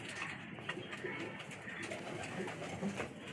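Pigeons coo steadily inside a keeper's loft, soft layered calls from several birds repeating under a constant murmur of flapping and shuffling.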